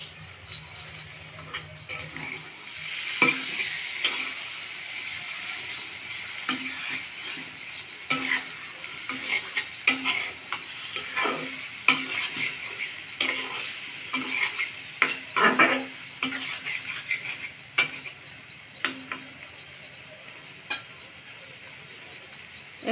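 Mashed tomatoes fry and sizzle in a pan for an egg curry with mashed potato, with steady spatula stirring and scraping strokes repeating across the whole stretch at close range, no talking.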